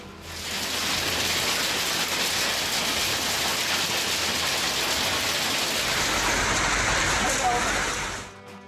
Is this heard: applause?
no